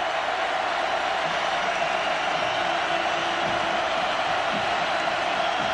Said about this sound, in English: the crowd is cheering because Xavier Lee is warming up